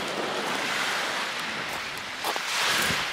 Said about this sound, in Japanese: 波がやばいっす